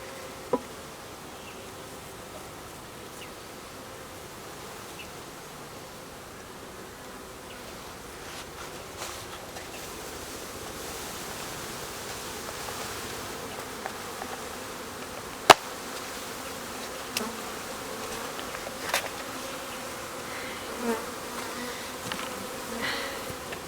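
Honeybees from a package installed into hive frames, a steady soft swarm drone throughout, close but low in level, with a few faint clicks and taps from handling, no talk.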